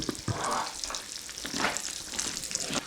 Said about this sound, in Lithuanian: Aš jau biškai verda šitą kiaušinienę, ne?